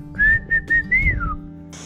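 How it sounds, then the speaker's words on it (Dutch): A whistle is blown during a hide-and-seek game in and around a house: four short, loud trilled toots in quick succession, the last one sliding down in pitch, with faint room noise underneath. "Ik hoor het fluitje."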